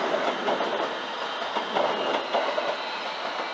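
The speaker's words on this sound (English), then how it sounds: "It's 332005. The Heathrow Express." The Heathrow Express train, unit 332005, passes nearby with a steady loud rush and rhythmic clickety-clack of wheels over rail joints, no voices.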